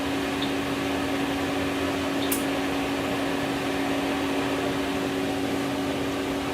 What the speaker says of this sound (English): I am going to start the vacuum on the machine a little bit